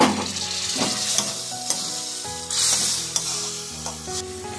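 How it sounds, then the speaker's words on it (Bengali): Spice paste of turmeric, cumin and chili powder with a splash of water frying in a pan, a steady close sizzle with stirring scrapes and a few sharp clinks, no voices. "সামান্য একটু জল অ্যাড করছি মশলাটা কষার জন্য"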